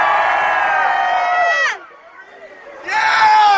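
Concert crowd at a live hip-hop show in Athens, Greece screaming loudly on cue, a dense sustained roar that drops briefly and then swells back up.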